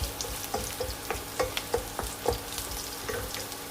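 Sliced ginger fries in a pan with a low, steady sizzle, broken by soft stirring scrapes and faint clicks that recur every half second or so, alone and fairly quiet.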